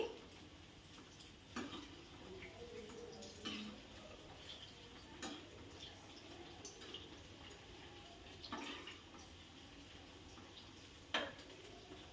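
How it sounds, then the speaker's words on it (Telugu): Masala-coated chicken pieces fry quietly in a pan, a faint, low sizzle punctuated by occasional soft knocks as the pieces are turned with a ladle. "రెండు వైపులా ముక్క బాగా ఫ్రై అయ్యేలా చేసుకోవాలండి"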